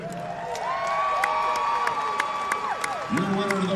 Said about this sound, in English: please give a round of applause for these two warriors here